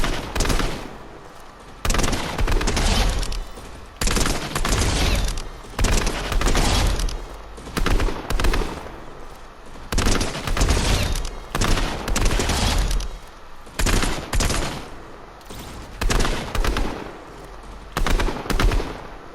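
Rapid bursts of gunfire from a Striker burst rifle in a video game aim trainer, repeated in quick grouped volleys throughout, loud and close with short gaps between bursts.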